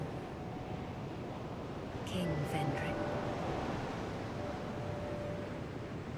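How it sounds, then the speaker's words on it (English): Steady water in Dark Souls 2 washes and rushes like surf, a constant broad hiss with a short swell in the middle, while a voice briefly speaks over it. "Has a beautiful water effect."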